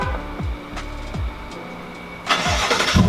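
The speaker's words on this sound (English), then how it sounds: "we have to do the quintessential fuckboy cold start" A Dodge Challenger V6 with a boosted build cold-starts: a few rhythmic starter cranks, a pause, then the engine catches and flares into a loud, rough idle close by, with no talk.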